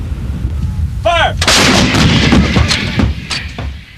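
Artillery fires during the Desert Storm advance on Kuwait City, with heavy booming blasts and rolling echoes, several reports following one another close and loud.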